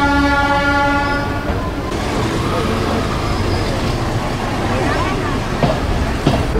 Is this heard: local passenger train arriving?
yes